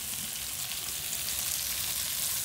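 Broiler chicken fries in a pan with oil, giving a continuous soft, bright sizzle at low volume with no voices over it.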